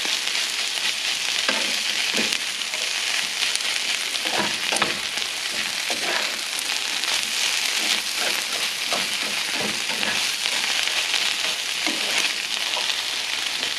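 Burrito filling seasoned with a healthy dose of sriracha sizzles steadily in a pan over medium-high heat, a continuous crackling fry broken by occasional scrapes and stirs, close and alone without talk.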